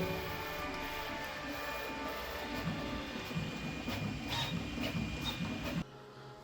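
A 3D printer printing parts for a 1:10 scale Sherman tank from a spool of filament hums and whirs steadily, with faint ticking stepper motor noises. The sound runs alone at a moderate level, then drops abruptly just before the end.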